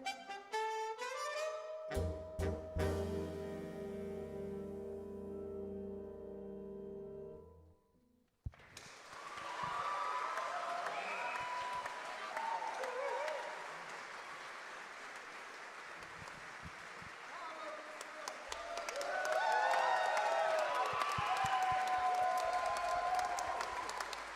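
After a jazz band's closing piano and band chord rings out and stops, an audience at a homegrown jazz evening concert bursts into applause, steady at first and then rising to louder clapping with scattered cheers.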